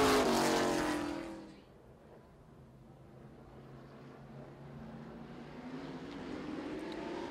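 Super Stock race cars pull away for a heat race at Lancaster Motorplex, a loud roar of several engines at first that quickly fades to a distant, steady drone before swelling again as the pack circles back.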